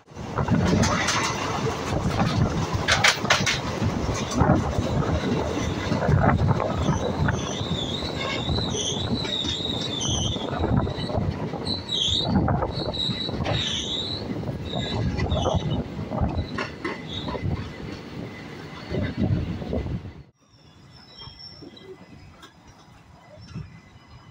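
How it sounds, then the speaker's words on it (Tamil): Salem–Chennai Superfast Express running at speed, a steady loud rumble of wheels and carriage with clattering and high squeals, continuous for about twenty seconds, then dropping suddenly to a quieter hum. "நல்ல ஒரு குட் ஸ்பீடில் தான் பார்த்தீங்கன்னா வண்டி இது வரைக்கும் ரன்னிங் ஆகிட்டு இருக்கு"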